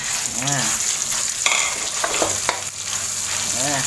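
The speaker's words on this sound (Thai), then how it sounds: "เอาไปพัดน้ำพริกก่อน สูตรเดิมๆครับ ตั้งกระทะ จุดแก๊ส ใส่น้ำมันไป" Chili paste for Thai khanom jeen nam ngiao is stir-fried in hot oil in a wok over a gas flame, giving a close, continuous sizzle broken by scraping strokes of the spatula.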